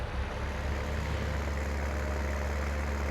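Truck engine in Farming Simulator 19, a steady, loud, low rumbling drone running unbroken and close throughout, with no talk over it.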